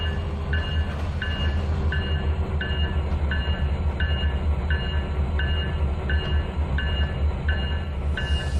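Rolling train in the Trainz 2019 simulator, a steady low rumble of wheels on rail with a faint repeating high tone ticking at even intervals, continuous and fairly loud with no voices.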